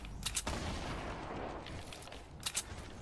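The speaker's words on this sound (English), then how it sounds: "They're shooting the wall." Gunfire in the video game Fortnite, a few sharp bursts near the start and again near the end over a steady wash of game noise.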